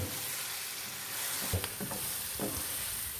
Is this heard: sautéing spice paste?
yes